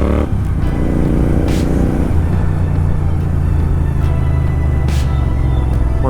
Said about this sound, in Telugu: సాటిస్ఫాక్షన్ కోసం నేను వేయించుకున్న ఎగ్జాస్ట్ అనమాట ఇది.